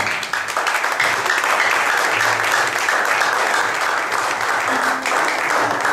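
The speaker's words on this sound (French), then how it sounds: "nous allons l'applaudir dans la salle" A hall audience applauds a children's poet at a book event, sustained steady clapping filling the room at full level for the whole stretch, with no voices rising above it.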